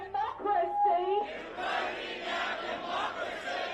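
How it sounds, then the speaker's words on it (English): Rally crowd chanting anti-media and anti-government slogans in a city centre, a rhythmic shouted chant at first giving way to a loud, dense wash of massed voices and cheering. "crowds gathered in the city centre with a range of flags, as well as anti-media and anti-government chants"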